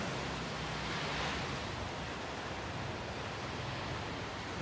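Small ocean waves wash onto a beach in North Naples, Florida, a soft continuous surf hiss with a gentle swell, with no talking.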